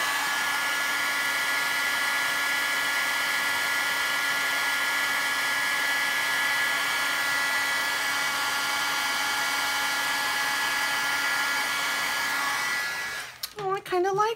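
A heat gun blows with a steady, loud whirring hiss while heat setting a crafted card, running continuously for about thirteen seconds before switching off, after which a voice briefly speaks.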